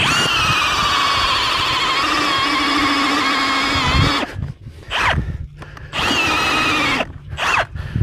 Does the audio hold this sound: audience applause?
no